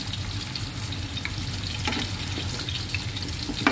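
Oil sizzles and crackles steadily in a pan as flour-coated tilapia fries alongside pakbet vegetables, a close, continuous frying hiss with occasional pops and stirring.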